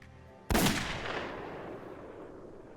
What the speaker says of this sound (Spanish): Apuntó y disparó.